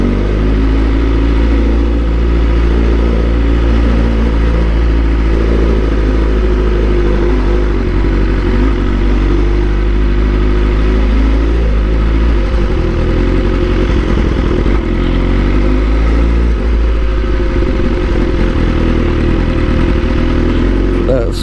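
A motorcycle engine runs steadily throughout while being ridden, a loud, continuous low drone with occasional changes in revs and some clatter; a voice talks over it at times.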